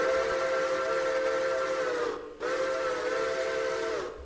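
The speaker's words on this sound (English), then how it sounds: "they actually have like a couple different New Hope and Ivanland Railroad 40 whistles from different eras that it had" The steam whistle of the New Hope and Ivyland Railroad 40 steam locomotive in the video game Railroader sounds two long, loud, chord-like blasts, the first lasting about two seconds and the second following after a brief gap.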